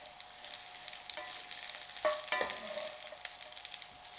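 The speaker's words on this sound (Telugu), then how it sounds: "నూనె కాగింది, నేను డైరెక్ట్ పొట్లకాయలు వేసేస్తున్నా." Thin rounds of snake gourd dropped into hot peanut oil, sizzling steadily and close by, with a brief louder crackle and stir about midway; no talking.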